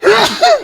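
A single sneeze, close and fairly loud, with a sharp intake followed by a burst, heard during a casual gaming stream; a brief word of speech comes right before it.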